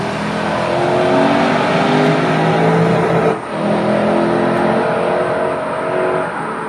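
A Lexus RC 350's V6 engine revs hard, a loud, raspy, sustained roar rising in pitch, with a brief dip around a gear change before surging again, heard close.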